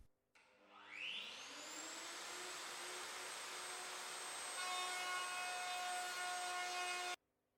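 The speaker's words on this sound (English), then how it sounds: "The female joint on the worktop edge has to be formed in several passes of the router" A router cutting a female joint into a worktop edge: the motor spins up, then a steady loud high whine with a rough cutting noise holds for several seconds before stopping abruptly.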